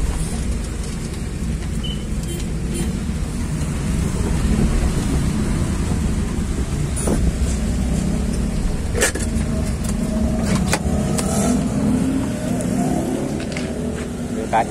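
Heavy road traffic in a congested street outside a glass shop at Prapatan Kapuk, a steady, loud rumble of engines and passing vehicles continuing throughout with occasional sharper bursts.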